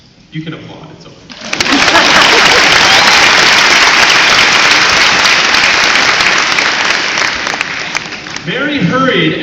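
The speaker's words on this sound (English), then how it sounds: "You can applaud, it's okay." Audience applause at a school band concert, rising suddenly after a brief spoken line and holding as a loud, dense wash of clapping before fading as talk resumes.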